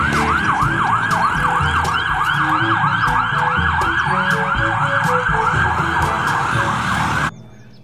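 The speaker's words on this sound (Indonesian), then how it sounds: "Yang ini ada mobil ambulans." A toy ambulance siren wails in a fast, repeating up-and-down pattern, loud and close, with a clicking mechanical whir beneath, then cuts off abruptly.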